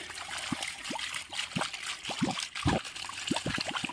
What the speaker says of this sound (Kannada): ನೀರು ಬರ್ತಾಯಿದೆ, ಫ್ರೆಶ್ ನೀರು ಬರಬೇಕು